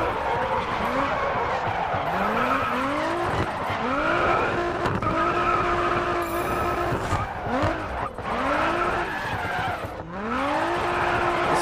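A race car in Grid Autosport revs hard through repeated upshifts and downshifts, its tires squealing and skidding almost continuously, loud and close, with no talking over it.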